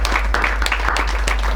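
Audience applause at an outdoor yoga camp, a steady wash of many hands clapping together, fairly loud and continuous over a low hum.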